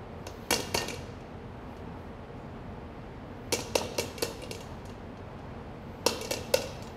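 Metal spoon scraping and clinking against bowls or baking dishes while baked potatoes are hollowed out, heard as three sparse clusters of sharp clinks over a quiet room background.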